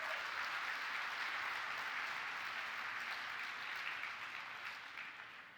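Steady audience applause at a conference speech fills the space, a dense even patter of many hands clapping that slowly fades toward the end.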